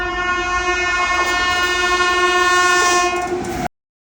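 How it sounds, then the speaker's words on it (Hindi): An express train passes close by on a railway line, sounding its horn as a loud sustained chord over the rumble of the wheels, then cutting off abruptly near the end. "पीछे से आ रही एक्सप्रेस ट्रेनों को देखने के लिए हम खड़े हो जाते हैं।"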